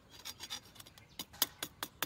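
A hand saw cutting through a dry, tough jackfruit branch: about ten quick rasping strokes in an uneven rhythm, close and fairly quiet, each stroke a short scratchy burst.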